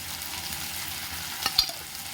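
Chili paneer with Schezwan sauce is stirred in a pan over a soft, constant frying sizzle, with a couple of brief spatula scrapes near the end.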